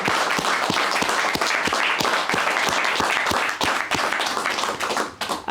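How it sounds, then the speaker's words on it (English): An event audience gives a round of applause, loud and close, with a steady, rhythmic pattern of sharp claps running through the dense clapping before it trails off at the end. "Let's give everybody a round of applause."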